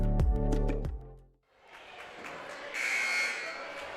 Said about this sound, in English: There's the buzzer, and we're back to action here at DuBois High School.